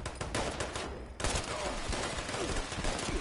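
Enemy gunfire in Fallout 76, a dense rapid burst of automatic shots close and loud, continuing almost without pause for a few seconds.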